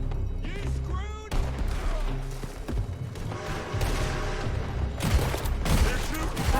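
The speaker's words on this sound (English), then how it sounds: "They're shooting from that building." Gunfire from a town shootout in Red Dead Redemption 2, a fairly constant volley of shots and crashes under game music, with brief shouted voices in between.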